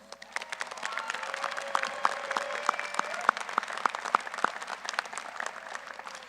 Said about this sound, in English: Please join me in a round of applause of these outstanding student leaders